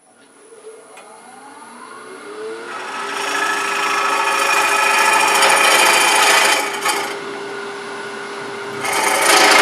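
A box elder hollow form spinning on a wood lathe, the tool cutting with a rising, rumbling scrape that grows louder and steadier, then briefly drops before resuming.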